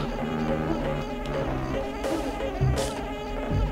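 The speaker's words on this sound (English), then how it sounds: "Oh, hey, I hear a beehive somewhere." A beehive buzzes in the Banjo-Kazooie video game, a droning insect hum layered with game sounds and short bright effects over a low musical bed.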